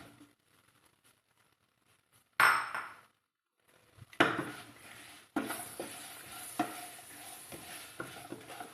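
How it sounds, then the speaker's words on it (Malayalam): Dried lemon is tipped into lemon pickle masala frying in a pan: near silence, then a sharp clatter, followed by scraping stirring strokes over a soft sizzle that continue steadily. "ഈ ഉണക്കി വെച്ചിരിക്കുന്ന നാരങ്ങ ഇവിടെ ചേർത്ത് കൊടുക്കാൻ പോവുകയാണ്."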